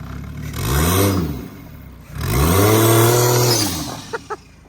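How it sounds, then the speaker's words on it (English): A turbocharged Lexus IS300 with a CT20 turbo revs hard twice during a one-tire burnout, loud and close, the second rev held longer with a rough roar, followed by a couple of sharp pops. "Another sweet one tire burnout. I haven't heard it yet. Rev it."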